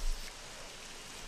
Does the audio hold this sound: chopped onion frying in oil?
no